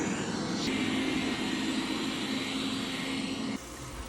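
Steady droning whir of a robotic vacuum grinding, a dense motor hum with a held tone that drops away abruptly near the end.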